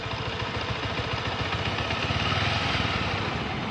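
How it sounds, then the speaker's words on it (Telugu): A Bajaj Avenger 150cc motorcycle engine idles steadily, its low, even thumping beat continuing throughout with no other sounds. "మీరు ఇంజన్ బీటింగ్ కూడా చూడొచ్చు."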